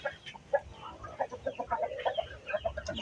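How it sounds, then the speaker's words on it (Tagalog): Several Shamo chickens cluck in short, irregular bursts, close by and moderately loud, with chicks nearby and no talking over them. "Ito naman yung mabagong sisiw."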